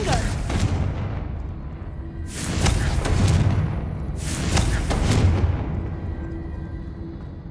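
Fiery Confringo spell blasts from Hogwarts Legacy, two broad booming bursts a second or so apart, each swelling and fading, over a rumbling game backdrop with some speech.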